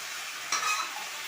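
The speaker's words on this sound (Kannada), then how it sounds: "ಇದು ಎಣ್ಣೆಯಲ್ಲೇ ಸ್ವಲ್ಪ ಫ್ರೈ ಆಗಲಿ ಬದನೆಕಾಯಿ" Brinjal frying in oil in a pan for a palya, a steady close hiss of sizzling with one brief louder burst midway, likely a stir, and no speech.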